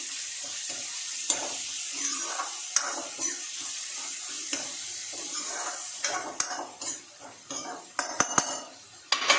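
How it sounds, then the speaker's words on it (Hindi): Chickpea curry with tomatoes and salt cooking in a pan, stirred with a metal spoon that clinks and scrapes against the pan, with faint sizzling beneath and a busier run of clatter toward the end. "अब थोड़ा सा नमक डालकर जब तक टमाटर गलता है तब तक इसे पकाऊंगी।"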